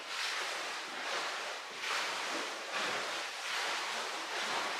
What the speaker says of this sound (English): The water taxi just went by.